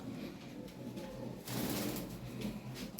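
Lahore siraji pigeons, round short-tailed birds with red beaks, coo softly nearby in a low, faint murmur with a slight swell midway.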